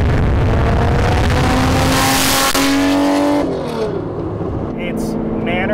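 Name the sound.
Lamborghini Diablo SV engine while driving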